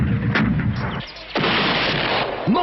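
Cannon and musket fire in a period battle video game booms in heavy, rolling blasts, loud and close, with a short lull before another sustained volley of gunfire.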